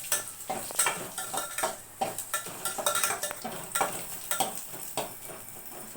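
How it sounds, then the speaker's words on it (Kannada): Green chillies, dry chillies and curry leaves frying in a pan, with steady sizzling under repeated scraping and stirring clinks of a utensil against the metal, close and fairly loud throughout. "ಆಮೇಲೆ ಹಸಿಮೆಣಸಿನ್ಕಾಯಿ, ಒಣಮೆಣಸಿನ್ಕಾಯಿ, ಕರಿಬೇವು ಇವೆಲ್ಲ ಹಾಕ್ಬಿಡೋಣ. ಇದು ಸ್ವಲ್ಪ ಚೂರು ಫ್ರೈ ಆಗುತ್ತೆ."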